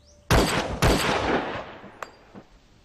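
A volley of rifle fire on a military shooting range, two loud simultaneous blasts close together followed by two fainter, sharper single shots trailing off, with no talking.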